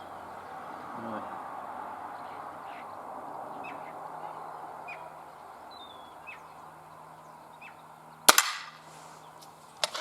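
A Benjamin Trail NP MK2 air pistol fires at a 10-metre target: one sharp, close crack near the end, followed by a smaller knock, over quiet outdoor ambience with faint birdsong.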